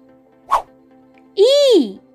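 A single short, sung or imitated dog bark in a children's alphabet song, a quick burst followed by a longer rising and falling musical tone, with no talking over it.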